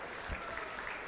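A church congregation claps for Christ during a lively Spanish-language worship service, a dense continuous patter of many hands, fairly faint and even, with a soft low thump near the start.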